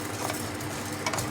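Cumin seeds dry roast in a pan, giving a steady soft crackle and rustle that is close and fairly loud, with a couple of faint stirring scrapes and no talk.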